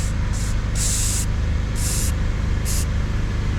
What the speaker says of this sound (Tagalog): So, ayan, i-spray natin ang isa-isa.